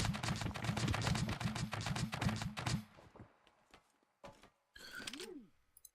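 A machine gun in the Scrap Mechanic video game fires a rapid, loud burst of repeated shots for about three seconds, followed by scattered softer clanks and a brief mechanical whine.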